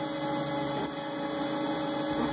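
Steady mechanical whine and hum from a Mark 8 3D printer running very fast with an E3D Volcano clone 0.8mm nozzle and 1.3mm filament, constant and close, with no talking.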